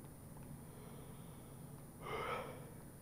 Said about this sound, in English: A big yawn.